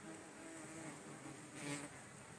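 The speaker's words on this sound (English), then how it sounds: "I'm sure you can hear the buzzing." Yellow jackets, wasps and flies buzz in a continuous faint hum outdoors near a spring-fed artesian well, with a slightly louder swell as one passes close, and no voices.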